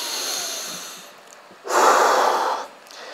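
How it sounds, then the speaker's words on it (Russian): Deep breaths in and out while walking to recover after running: two long, loud breaths, the first a softer airy inhale and the second a strong, rushing exhale, close to the mic with no talk. "В режиме ходьбы делайте 5-7 очень глубоких вдохов и выдохов таких вот"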